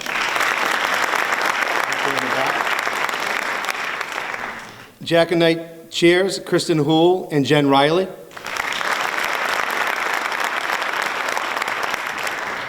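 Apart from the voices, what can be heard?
audience applause for volunteers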